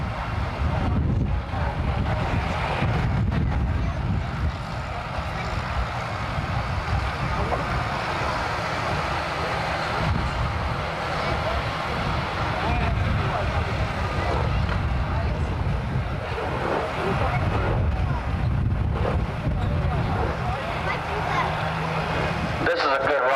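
A Ford pulling tractor runs steadily at a tractor pull outside a fire station, its engine a loud, continuous low rumble with wind buffeting the microphone throughout.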